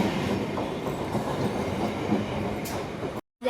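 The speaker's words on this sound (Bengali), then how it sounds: "দেখো গাইস আমাদের ট্রেন ঢুকে পড়েছে অনেক অবসরের পর" A train rolls into a station with a steady, loud rumble and clatter of wagons that holds throughout, then cuts off briefly near the end.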